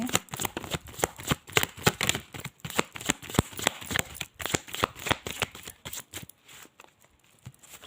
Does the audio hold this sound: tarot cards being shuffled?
yes